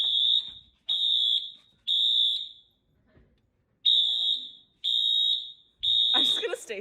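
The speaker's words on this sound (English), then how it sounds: "Fire alarms also kind of go off often in Unit 3." A loud, shrill fire alarm in a UC Berkeley Unit 3 dorm sounds in two groups of three beeps with a pause between, and a voice briefly cuts in at the end.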